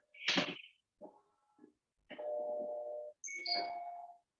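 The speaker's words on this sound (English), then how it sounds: "Thank you for the notification." Electronic notification chimes sound during a calculus lesson: a short sequence of bright beeps and tones, with a sustained mid-pitched tone followed by a higher two-note chime, fairly clear with no talk over it.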